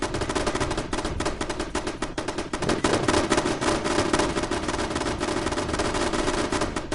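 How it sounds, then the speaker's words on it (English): Rapid, dense automatic gunfire from a firefight in the video game Fallout 76 runs continuously and loudly for the whole stretch, a relentless machine-gun rattle with no talk over it. "They're shooting at each other now."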